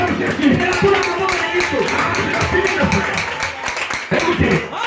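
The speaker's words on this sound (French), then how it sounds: "On acclame Jésus" A church congregation at a deliverance service claps and cheers, a continuous wash of hand claps and crowd voices with people talking throughout.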